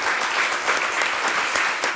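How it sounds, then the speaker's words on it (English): A civic audience gives a round of applause, a dense, continuous burst of many hands clapping close and loud for a couple of seconds. "can we give her a round of applause?"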